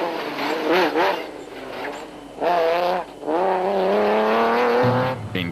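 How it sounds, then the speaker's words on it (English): A Nissan Navara 4-litre pickup races off-road over a quad bike track at the 2007 Nissan Dealer 400 rally in South Africa. Its engine revs loudly and close in rising and falling surges, separated by short gaps. "Getting airborne on the quad bike track was Norway's Ivar Tollefsen and his co-driver Quinn Evans, who were still getting used to their Nissan Navara 4-litre"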